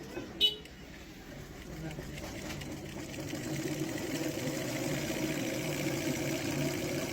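A manual ceiling fan coil winding machine runs with a steady, low mechanical hum while a voice talks over it, after a brief sharp click near the start.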